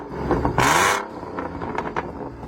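A V6 Ford Mustang engine gives one short, sharp rev that rises and drops back to a rough idle within about half a second.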